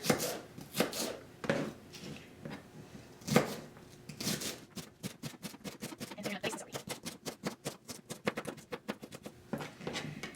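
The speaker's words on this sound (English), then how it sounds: "start by chopping your celery, slicing the celery" A knife chops celery into small pieces on a board in quick, steady strokes, starting irregular and settling into a rapid, even rhythm of crisp close cuts.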